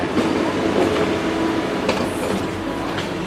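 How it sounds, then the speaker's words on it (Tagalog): A train rumbles steadily throughout, with a continuous low roar and faint metallic clatter, close and fairly loud. "Ayan na yung tren"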